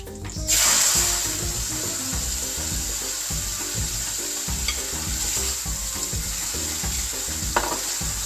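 Ground coconut paste hits a hot pan of oil with curry leaves and fenugreek for a Kerala-style tuna curry, setting off a loud sizzle burst that settles into steady frying hiss with scraping stirs.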